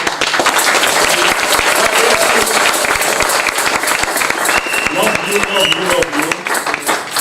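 A church congregation at a deacons' consecration service applauds and cheers loudly, a dense, continuous roar of clapping with voices shouting and a brief sung or called tone rising over it.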